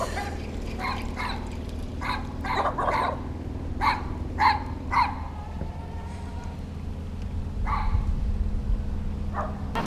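Several dogs bark in short bursts, some overlapping, at moderate distance beside a canal, over a steady low background hum.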